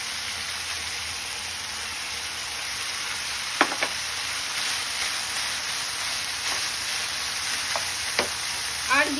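Vegetables frying with chicken in a pan give a steady close sizzle, like light rain, with a few sharp clicks and taps of a utensil scattered through.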